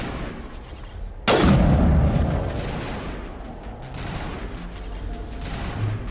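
Gunfire and a heavy blast in the Mass Effect video game: one sudden loud boom followed by a rumbling tail and a distant, scattered volley of shots that fades, with no voices over it.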